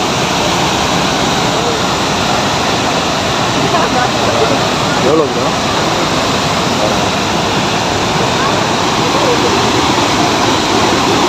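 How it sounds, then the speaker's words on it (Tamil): Pykara Falls in Ooty, a waterfall rushing with a loud, steady broadband roar that fills the whole stretch without letup, with a short spoken exchange heard over the water. "நல்லா தண்ணி சவுண்டோட சூப்பராக"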